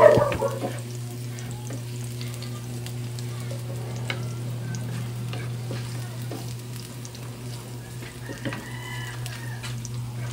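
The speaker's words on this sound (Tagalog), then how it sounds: "Lutuin muna natin ito hanggang magkulay brown para bumango ang ating chicken asado po." Chicken asado pieces frying in a pan until browned, a steady soft sizzle with a low constant hum underneath and occasional light clinks, fairly even throughout with no talking.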